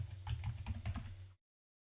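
A password is typed on a computer keyboard as a quick run of about a dozen soft, close key taps, which stop abruptly after just over a second.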